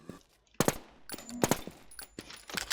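Rapid gunfire crackles in a video game shooter, several sharp close bursts and single shots spread across the clip with brief gaps between them.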